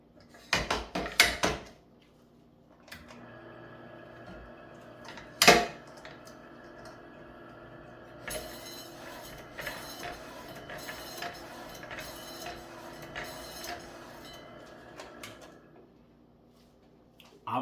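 Homemade smoked turkey lunch meat being sliced thin, with a few loud clattering knocks at the start, then a long stretch of rapid, rhythmic mechanical slicing and scraping close by.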